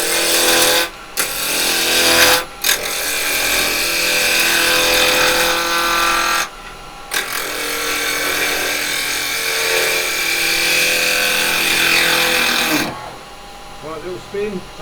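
A wood lathe spins a pine blank mounted between centres for a plant pot, a loud steady broadband whir that runs almost throughout with a few brief breaks and quick stops, close up.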